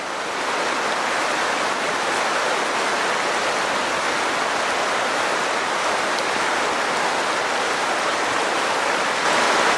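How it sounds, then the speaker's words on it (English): The Lehigh River flows in a steady, broadband rush that fills the whole stretch evenly, with a waterfall somewhere in the distance blending into the constant roar and no voices. "Looks like there's a waterfall way over there."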